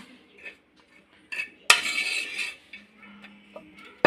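Fried spices for mutton sambar tipped and scraped from a pan onto a plate: a few soft utensil taps, then a sharp metallic clatter and a brief scraping rush, with quieter clinks after.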